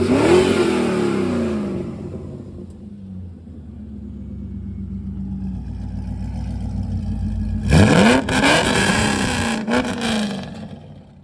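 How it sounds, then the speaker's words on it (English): The LS1 V8 from a 2000 C5 Corvette is revved on a stand, a deep rumble climbing in pitch, settling, then a sharp louder burst of revving near the end. "Go ahead and rev it up."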